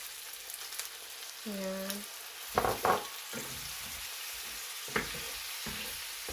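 Chicken and broccoli stir-fry in oyster sauce sizzles steadily in a pan as a splash of water goes in, with a brief hiss, a few clatters of a utensil, and a voice speaking briefly early on.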